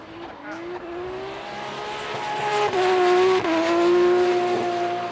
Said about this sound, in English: On throttle, bringing it around.